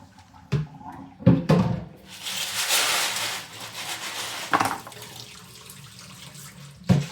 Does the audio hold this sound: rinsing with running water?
yes